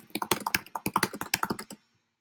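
Quick, close keystrokes clatter on a computer keyboard as a name is entered into a Google Form, about twenty rapid taps in a steady run that stops abruptly into silence.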